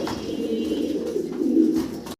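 Caged pigeons, including king pigeons, give one close, throaty coo that rolls for about two seconds before cutting off.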